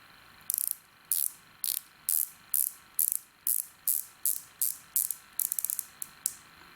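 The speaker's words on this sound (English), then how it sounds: "The bezel sounds like a Submariner bezel." The rotating ceramic bezel of a Rolex Submariner Date 116613LB in steel and yellow gold being turned, crisp close ratcheting clicks in short regular bursts, one quick run of several clicks near the end.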